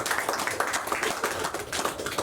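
Audience applause at a writers' conversation event, a steady wash of many hands clapping close and continuous throughout.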